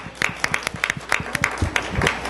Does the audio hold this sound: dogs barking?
no